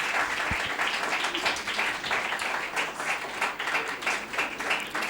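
Audience applause fills a certification ceremony at a Bible seminary, steady dense clapping from a crowd sustained throughout, with no talk over it.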